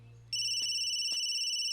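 Telephone rings with a steady electronic tone starting abruptly, clear and moderately loud, with no one talking over it.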